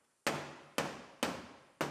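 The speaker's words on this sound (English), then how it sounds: "We'll hammer it flat so that we can cut it off later." Four sharp metallic hammer blows flatten a damaged body panel on a Lexus IS250, evenly spaced about half a second apart, close and ringing briefly after each strike.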